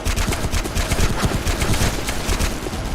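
Dense, continuous automatic gunfire in the online shooter game Sudden Attack, rattling without pause, loud and close, with rapid overlapping shots and no talk.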